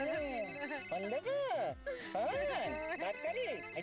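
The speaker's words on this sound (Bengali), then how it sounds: "ফোন বাজছে, বিয়ে বাড়ি থেকে নিশ্চয়ই আমাদের ফোন করেছে। তো বেজেই যাচ্ছে, কেউ ধরছে না।" A telephone rings with a repeating melodic ringtone that cycles through rising and falling tones without a break, close and clear throughout.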